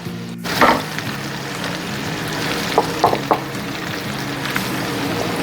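Green, red and yellow julienned bell peppers frying in a pan with Italian sausages, giving a steady close sizzle with a few soft clattering stir knocks, no talking.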